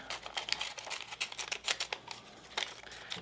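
Scissors cut around a traced circle of material for a rainstick craft, producing a rapid run of crisp snips and papery crinkles, close and fairly quiet with no talking.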